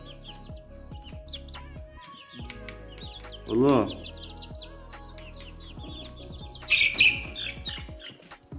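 Chickens cluck and a rooster squawks loudly nearby, with a brief raised squawk midway and another near the end, under scattered speech.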